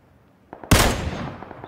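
Gunfire in PlayerUnknown's Battlegrounds: after a couple of faint taps, one loud, sharp shot cracks up close, and its long echoing tail spreads out and fades slowly.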